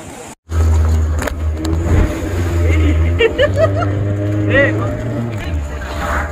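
A speedboat ride on the sea off Goa: a loud, close motor drone with rising and falling whine, water slapping and rushing wind, with voices talking over it.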